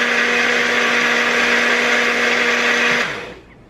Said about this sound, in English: Now here's where the fun part comes in. You put it in the blender.